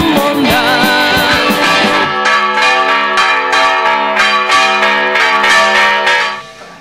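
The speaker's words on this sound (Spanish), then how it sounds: "¿Has podido o no has podido con la campana, Víctor?" A church bell is rung by hand at a Santa Rosa patron saint festival in Aragón, giving loud, rapid, ringing clangs one after another that hold steady and then fade out at the end.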